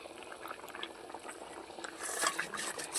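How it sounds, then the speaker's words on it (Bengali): Curry gravy with potatoes boiling in a pot, a steady bubbling and popping that grows louder and busier toward the end, close by with no talk. "দেখুন ঝোলটা ফুটে গেছে"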